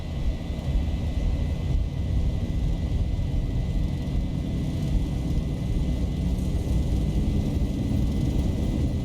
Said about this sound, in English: now we set the takeoff thrust